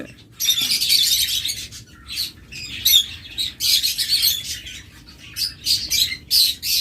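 Caged pet birds at a bird seller's stall, diamond doves among them, fill the air with bursts of shrill squawks and chirps in quick, irregular clusters, loud and near.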